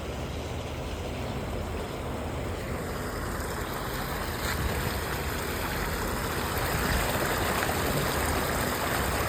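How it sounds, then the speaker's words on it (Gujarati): Irrigation water rushes continuously through an open farm channel with a steady broadband roar, close by and unbroken throughout. "કેવું મસ્ત મજાનું પાણી આવે આ શરૂઆત"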